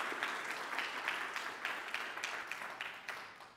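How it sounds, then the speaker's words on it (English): A church congregation applauds during a traditional Sunday service, a steady wash of many hands clapping at moderate distance. It fades slightly toward the end. "Let's give Mona a round of applause."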